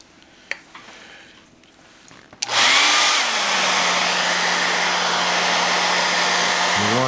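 A handheld dryer blows air over freshly painted carving on a Santa bust, switching on abruptly after a quiet moment and then roaring loud and steady up close, with a faint tonal whine under the rush.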